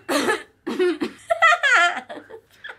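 A person coughs several times in short, rough bursts, mixed with throaty, voiced sounds that verge on laughter.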